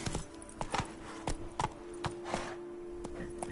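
Hooves of Roach, the horse in The Witcher 3: Blood and Wine, pound out a steady galloping rhythm of sharp, evenly spaced thuds at moderate volume, with a faint background hum.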